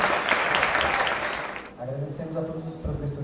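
An audience at a literature symposium claps in a dense, hissing burst that fades after a second or two, and then a presenter speaks into a microphone.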